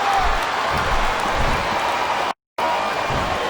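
Capacity arena crowd in the WWE SmackDown vs Raw 2007 wrestling game, a dense, steady roar of cheering and applause that drops out briefly before resuming.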